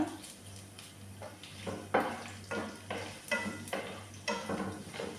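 Mustard seeds and cumin frying in hot oil for a Telugu carrot fry, heard as a soft sizzle with repeated stirring scrapes and utensil clinks against the pan at a fairly quiet level.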